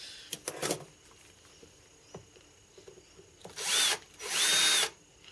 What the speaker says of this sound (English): Drill this out the tapping size.